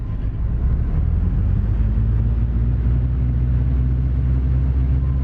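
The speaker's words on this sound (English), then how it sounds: "I turn this engine on." Outboard boat engine in the Fishing Planet fishing game, idling with a steady low droning rumble and faint harmonic hum, running continuously at an even volume with no talk.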